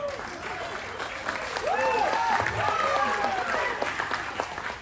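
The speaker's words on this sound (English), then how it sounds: "Let's give it up for Simone." Audience applause at a science comedy show, a sustained spread of clapping and a few cheers that rises and holds, with a voice or two briefly heard over it.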